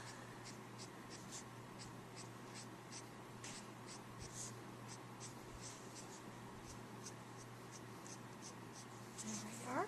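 Copic markers are stroked rapidly across paper, giving quick rhythmic scratchy swipes with a steady low hum underneath, close and fairly quiet.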